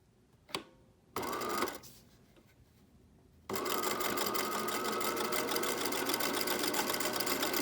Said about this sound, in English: So I'm just zigzagging it on pretty close to the edge.